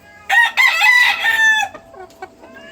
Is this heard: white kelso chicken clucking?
yes